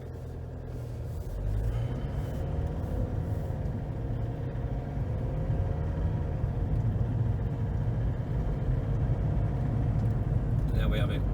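A repaired car pulls away and picks up speed, its engine a low continuous rumble that builds steadily from a quieter start and holds loud and even to the end.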